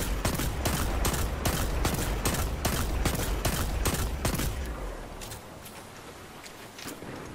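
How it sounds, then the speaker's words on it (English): Rapid semi-automatic gunfire from a Destiny 2 weapon, the trigger pulled as fast as possible: a loud, evenly spaced burst of about a dozen close shots, then quieter scattered clicks and reverb once firing stops. "I'll be hitting the trigger as fast as possible."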